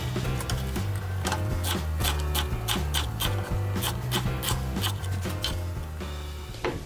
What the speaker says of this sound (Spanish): Ahora nos pondremos a picar nuestra cebolla.